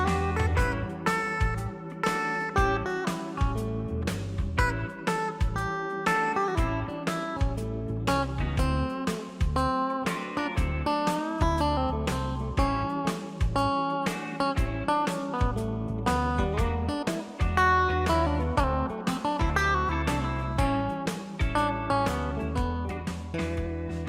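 An electric guitar improvises Mixolydian lines over a blues progression, with a steady, busy stream of picked notes and rhythmic accompaniment running throughout at an even, moderate level, no voices.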